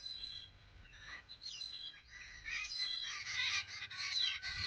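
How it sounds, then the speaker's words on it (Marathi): Birds gather at a house door, chirping and tweeting in quick, overlapping calls that grow louder and busier, heard fairly faintly and without talk. "काय कसला आवाज आहे? कोणता पक्षी?"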